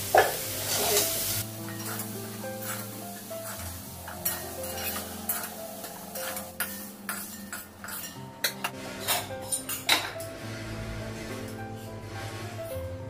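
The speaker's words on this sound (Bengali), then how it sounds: "গ্যাসটা কমালাম, সয়াবিনের অল্প ভাজা হয়ে গেছে।" Soya chunks fry in a pan on a lowered gas flame, a soft continuous sizzle broken by clinks and scrapes of a spoon stirring against metal.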